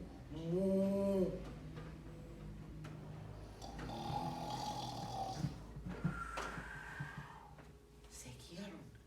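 A storyteller's voice imitates loud snoring in a children's tale, a drawn-out rasping snore near and clear at the start, followed by softer voiced sounds and talk-like murmurs.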